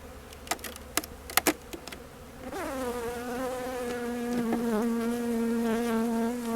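Sharp clicks and knocks come first. Then a dense, close swarm of honey bees rises into a loud, sustained buzzing drone around an open beehive and continues steadily to the end.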